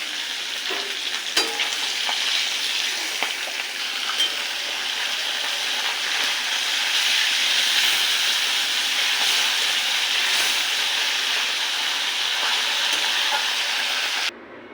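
Hilsa fish frying lightly in oil, a loud, continuous hissing sizzle that holds steady from start to finish with occasional small crackles, close up and without talk.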